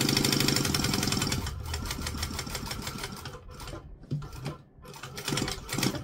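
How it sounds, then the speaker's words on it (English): A sewing machine stitching a quarter inch seam, a fast rhythmic mechanical clatter that runs steadily, then stops briefly and starts again in short bursts near the end. "We're going to backstitch at the start and then pivot, and around we go."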